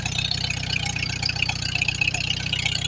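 A Farmall H tractor engine runs steadily, a close, even low thumping with a hissy top end and no voices.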